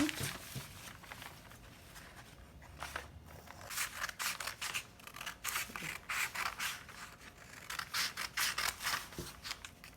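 Scissors snip through skirt fabric while a basic pencil skirt pattern is cut out, with repeated crisp cuts in bursts spread across the clip. The snips are close and fairly quiet, and a faint rustle of cloth sits under them.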